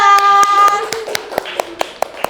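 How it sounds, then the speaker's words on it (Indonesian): Classroom participants in an Indonesian teacher-training session clap for a presenting group, starting with a voice and then sharp, spaced claps in a steady, fairly quick rhythm from only a few hands, close and distinct. "beri tepuk tangan sekali lagi untuk kelompok 2"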